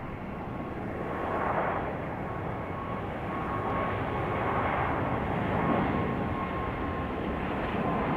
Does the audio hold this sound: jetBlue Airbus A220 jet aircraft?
yes